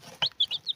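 Young chickens, four future hens and two future roosters, give a few short, bright clucks and chirps close by, in quick uneven bursts with no talk.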